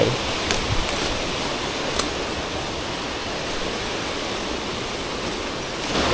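Steady, loud roar of a forest waterfall, a continuous broadband rush of falling water with no break, heard close by with no voices.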